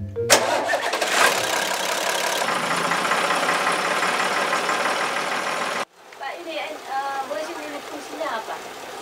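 Old scrapped truck brought back to life with a new battery, its engine cranking, catching and running loudly and steadily for several seconds, then cutting off sharply, followed by a quieter stretch with people talking.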